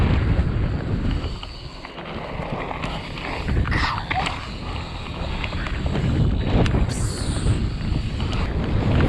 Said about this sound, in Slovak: Fuj, ale fúka.